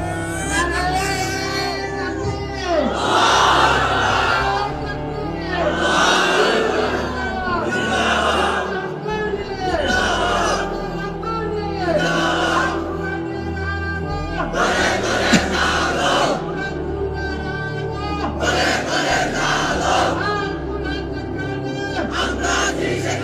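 A large crowd chants slogans and shouts takbir in loud, rhythmic call-and-response waves, with a leading voice driving each round and repeated bursts of massed voices throughout.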